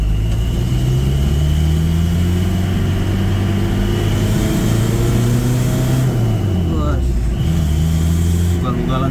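A Toyota Starlet engine with a newly fitted exhaust revs repeatedly in a workshop, loud and close, its pitch climbing and falling in several throttle blips while someone talks over it.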